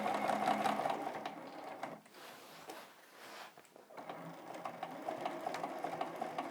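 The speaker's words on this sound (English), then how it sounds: "And just 2 more lines to stitch." Sewing machine stitching short lines across a glittery star quilt block, a close rapid mechanical whir that runs, slows and pauses briefly in the middle, then picks back up at full speed.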